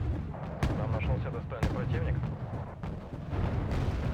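Ship missiles firing in a war video game, heard as heavy booming blasts and sharp launch bursts at irregular intervals under a rumbling battle background.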